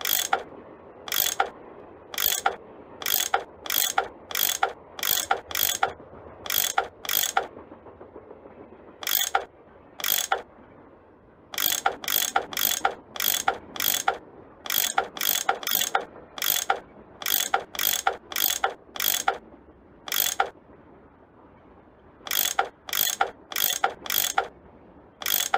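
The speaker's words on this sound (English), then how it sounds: "I bet that's what you use to unscrew these bolts." A ratchet tool clicks rapidly while loosening bolts in a Nancy Drew train-themed video game, loud dry pawl bursts repeating in quick groups with brief pauses between, alone with no talk.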